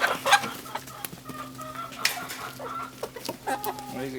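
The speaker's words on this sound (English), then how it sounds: "chickens is wanting to eat. They like it." Chickens clucking while they eat, close by, with scattered soft clucks and a few sharper calls over a low steady hum, along with small pecking and rustling noises.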